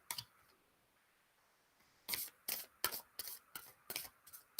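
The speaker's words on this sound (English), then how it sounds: "now I'm going to take the rest of the deck and start shuffling it up" Pulp Tarot card deck being shuffled by hand: after a quiet start, a run of six or seven crisp riffling bursts in quick, even succession, close and clear with no talking.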